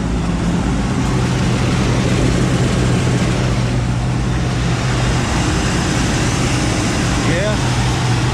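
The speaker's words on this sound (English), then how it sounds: "That sounds kind of cool with the inch diameter exhaust." A neglected 1958 Chevy Biscayne engine runs through an inch-diameter exhaust with a loud, continuous low rumble close by, while people talk over it.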